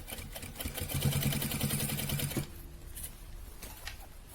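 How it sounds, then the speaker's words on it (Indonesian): A sewing machine runs a fast, steady topstitch along a fabric sling bag for about two and a half seconds, close and loud, then stops, leaving a quiet room with faint handling noises. "Kita bisa jahit tindas sambil merapikan lipatan dari inner"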